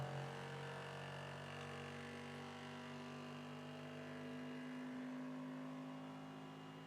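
QIDI X-Plus 3 3D printer running its first print, a steady motor whine with layered tonal hum, shaking as it works, fairly faint and continuous with no talk.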